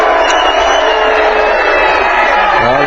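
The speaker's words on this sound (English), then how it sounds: "they're booing him because it's the fashion to boo McManus" A wrestling crowd boos Mick McManus at a bout against Johnny Saint, a dense, loud, continuous roar of jeers and shouts that holds steady throughout.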